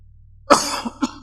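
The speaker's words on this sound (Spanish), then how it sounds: "Esta tos impertinente" During a Sunday church sermon, a single harsh cough bursts out after a moment of near silence, followed by a short throaty catch and a second smaller cough.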